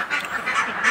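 Ducks on a farm shed, some just climbing out of the water while others swim nearby, give off steady, rough quacking and calling throughout, at moderate distance with no talk.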